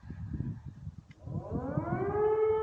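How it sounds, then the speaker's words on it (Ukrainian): An air raid siren in Ukraine winds up and rises into a loud sustained wail, emerging from low rumbling background noise. "О, сирени."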